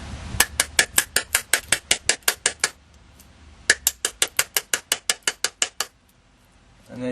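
Repeated sharp metallic taps of a bump key being struck to open a pin tumbler lock: two quick, steady runs of about a dozen close, loud knocks each, separated by a brief pause.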